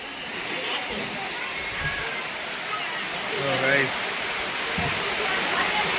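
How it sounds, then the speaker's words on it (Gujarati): Steady, heavy rain hisses across the whole scene in a Saurashtra village, a dense continuous wash with faint voices talking beneath it. "વરસાદ તો ફૂલ શરૂ થઈ ગયો છે જવો અવાજ આવે ને વરસાદનો"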